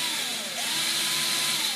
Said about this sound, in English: I'm just going to drill a little ways in for the screws.